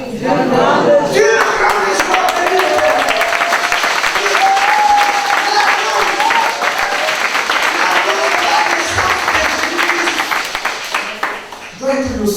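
A church congregation applauds during a sermon, with sustained, dense clapping from a crowd filling the room while a preacher keeps speaking over it.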